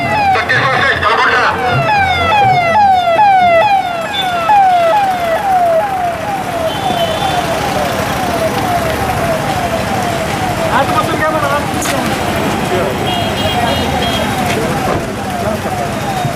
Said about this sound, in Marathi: प्रमुख पाहुण्यांच्या गाड्यांचा ताफा कार्यक्रमस्थळी पोहोचला